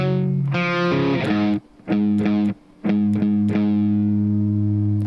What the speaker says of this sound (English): there's another added guitar part that sounds like this.